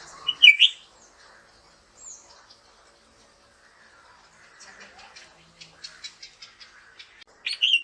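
Red-whiskered bulbul chicks give thin, high chirps and cheeps in scattered bursts during feeding, loudest at the start and end, with quieter twittering between.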